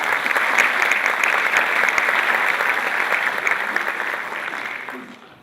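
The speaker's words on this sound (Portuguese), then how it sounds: "Vamos aplaudir a equipe Centro Têxtil." A convention audience at a lean manufacturing event applauds the Cedro Têxtil team with steady, full clapping from a large crowd that fades away in the final second.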